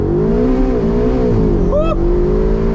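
A BMW M4 launches hard from a power start, its engine note climbing loud and close through the gears with a sharp upshift near the end, while excited voices exclaim over the roar.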